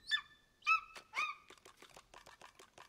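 A giant eagle in the Divinity: Original Sin video game gives three loud, shrill screeching cries in a row, followed by a rapid string of chattering chirps, close and with no talking.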